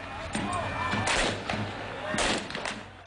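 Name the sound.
fireworks shot over palace walls during Cairo protest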